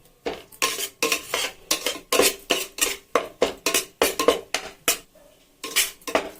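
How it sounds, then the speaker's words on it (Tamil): Semolina (rava) is roasted in a pan over a medium flame, stirred with a metal spoon in quick rhythmic scraping strokes, about two or three a second. The scraping is close and clear, with short pauses between bursts and no voices. "இது மீடியம் ஃப்ளேமில் வச்சு கரெக்டாக ஒரு 4 நிமிஷம் வறுத்து எடுத்துக்கணும்"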